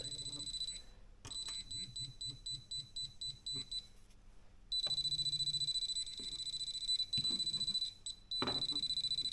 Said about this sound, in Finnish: Eri äänellä piippoo erilaista metallia on.